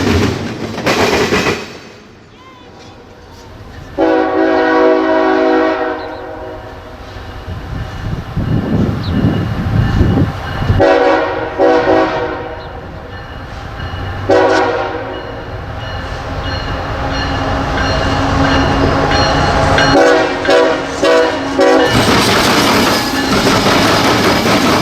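A freight train led by a KCS Grey Ghost locomotive and CPKC units rumbles past a station, sounding three long horn blasts over the loud, continuous rolling clatter of the cars.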